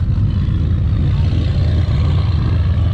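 Modded McLaren 570S with Geheim tuning runs loud and close, a dense, steady low engine rumble with a raspy exhaust edge holding for a few seconds without a break.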